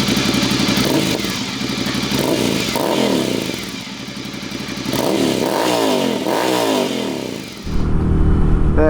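Ducati Desert Sled motorcycle running through a Leo Vinci aftermarket exhaust, revving up and down in repeated rising sweeps with mechanical clatter, loud and close, then settling into a steady rumble.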